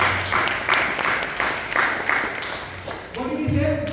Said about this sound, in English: Please give a round of applause to Hari Prabhu.